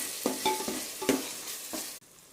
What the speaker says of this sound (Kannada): ನೋಡಿ ಫ್ರೆಂಡ್ಸ್, ಈ ಥರ ಚೆನ್ನಾಗಿ ಫ್ರೈ ಮಾಡ್ಕೋಬೇಕು.